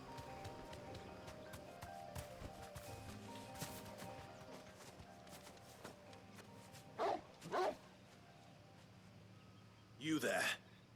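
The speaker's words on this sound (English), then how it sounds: "But my faithful dog is always with me." A dog in the Final Fantasy XVI game gives a few short, distinct barks, two close together and one a little later, over quiet game ambience with faint hoof-like clopping.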